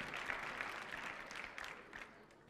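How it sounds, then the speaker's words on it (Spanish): An audience claps in a short, steady burst of applause that fades toward the end, heard alone without talk. "Muchas gracias por estos aplausos."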